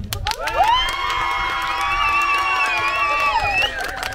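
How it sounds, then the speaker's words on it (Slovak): Crowd cheering and whooping for firefighters at an outdoor cabbage soup cooking competition, a loud sustained wave of voices with children shouting, lasting several seconds before tapering off. "Aký potlesk si zaslúžia hasiči?"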